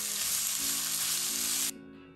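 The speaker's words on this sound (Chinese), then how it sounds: "炒香后和芹菜豆腐干一起翻炒" Celery and dried tofu stir-fried with chili in a wok make a loud, dense sizzle that holds steady, then drops off abruptly near the end, with no talking.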